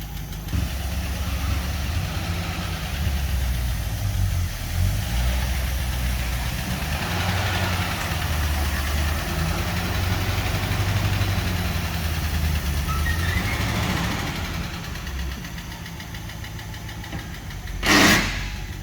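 A Packard car engine runs close by with a low, steady rumble and slight knocking pulses, easing off partway through before a brief sharp burst near the end.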